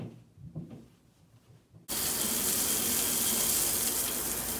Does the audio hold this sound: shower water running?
yes